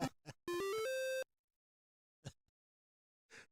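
Electronic ringtone on a telephone with a rising run of bright beeping tones, loud and close, framed by short clipped bursts of sound before and after in a quiet room.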